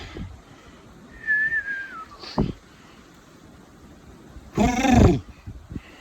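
A single thin whistled note slides downward, followed by a short sharp burst and a loud cat-like yowl close by.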